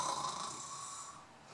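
A person imitates a wombat snoring with a single drawn-out breathy snore, fairly close and quiet, with no other sounds.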